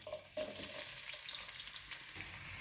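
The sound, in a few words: mustard seeds, cumin and onions sizzling in hot oil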